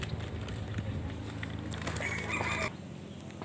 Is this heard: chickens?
yes